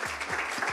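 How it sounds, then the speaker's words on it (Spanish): A short burst of applause at an awards ceremony, a crowd clapping in a quick, dense patter for under a second. "un fuerte aplauso"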